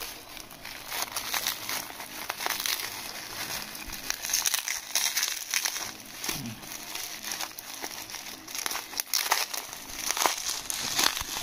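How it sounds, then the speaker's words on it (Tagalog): Close-up crinkling and rustling of bubble wrap packaging around flea and tick spot-on treatment being handled and pulled open, with irregular crackles and tearing bursts. "Bubble wrap, sobrang mahirap siyang open"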